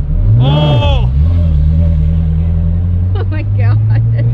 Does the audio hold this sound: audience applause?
no